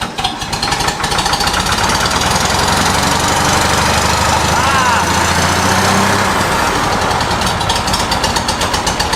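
Old barn-find Continental tractor engine running at idle after 35 years, a loud, rough, rapid knocking chug close by that holds steady throughout, with a voice speaking over it.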